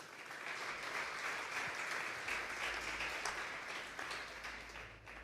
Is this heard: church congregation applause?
yes